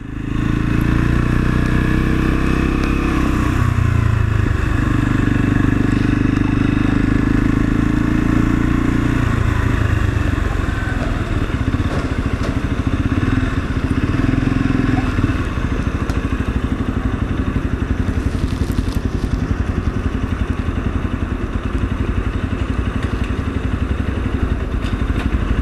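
A Lexmoto Assault motorcycle runs steadily and loudly close by, its engine note shifting in the first ten seconds as it pulls away and settles, with continuous rumble and some clatter throughout.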